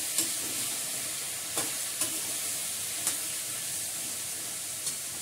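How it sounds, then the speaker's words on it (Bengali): Spices fry lightly in a pan, giving a soft steady sizzle and hiss, broken by a few faint scrapes and taps as a utensil stirs them. "হালকা করে একটু ভেজে নিই"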